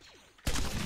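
Rapid-fire weapon shots from the video game Galacticus Wars: a sudden loud, dense burst of gunfire cuts in after a quieter stretch and keeps going to the end, with no talking over it.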